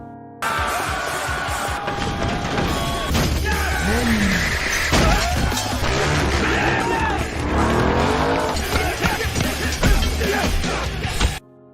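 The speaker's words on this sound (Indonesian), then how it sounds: "Tidak tinggal diam, Ban dan juga Hetting bergegas kabur menggunakan motor. Meskipun banyak yang mengejar, Ban dapat mengatasi situasinya dengan mudah" Motorbike engines roar and rev in a frantic chase, with squealing tires, clattering impacts and a loud, continuous scramble of vehicle noise.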